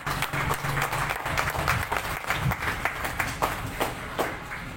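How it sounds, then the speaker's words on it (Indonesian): An audience applauds at a ceremony launching a white porang export shipment to Vietnam, a dense wash of mixed clapping, fairly loud and sustained, with murmuring voices beneath. "tepuk tangan untuk Mas Bahtiar"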